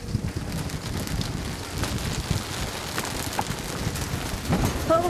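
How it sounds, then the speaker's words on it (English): Heavy rain pours down outdoors by the sea, a dense steady hiss with gusty wind buffeting the microphone, loud and continuous throughout. "it's raining really hard"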